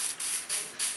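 Rain falls outside a window in a video game, a steady soft hiss that swells gently a few times over a brief moment, with no voices.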